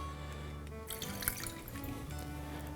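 Rum and then lime poured into a historic mug: a soft, continuous liquid trickle with a few light drips, faint and close, over a quiet background hum.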